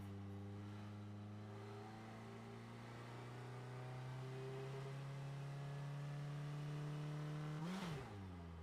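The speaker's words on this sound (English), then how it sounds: "Oh, this engine is loud." A car engine in the driving game Drive Beyond Horizons drones loudly and steadily, its tone creeping slowly higher as it gains speed, then breaks off in a sudden bump near the end.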